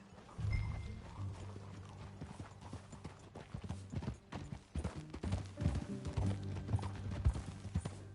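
Steady horse hooves clip-clopping at a walking pace in Red Dead Redemption 2, close by, with faint ambient music underneath and no talking.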